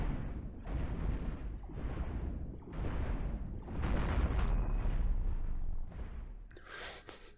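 Starship weapons fire in a Cosmoteer Star Wars mod space battle: a steady run of heavy, booming volleys pulsing roughly every second, ending in a bright, crackling burst.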